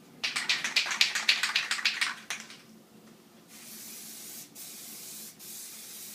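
Short rapid bursts of aerosol Plasti Dip sprayed onto a car in side-to-side passes, a rhythmic string of hissy pulses followed by quieter, longer steady hisses with brief gaps.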